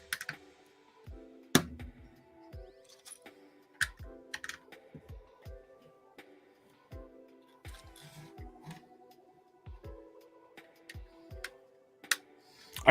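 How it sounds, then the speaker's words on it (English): LEGO Star Wars 2023 spring set pieces click and snap together in a steady run of sharp, close taps and clatters, irregularly spaced, with faint rustling between them and no talking. "can you guys actually hear the Lego pieces clicking?"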